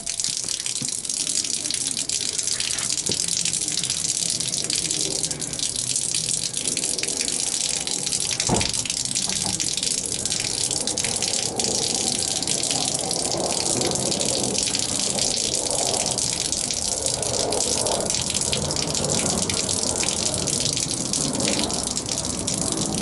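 Water gushes steadily from an RV fresh water system leaking after the supply is shut off, a loud continuous broadband rush running unbroken throughout.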